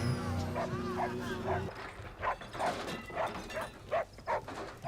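A dog barks repeatedly in short, evenly spaced bursts, fairly close, after a brief low droning sound at the start, from the TV show Lost.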